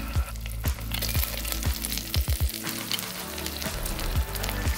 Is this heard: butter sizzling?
yes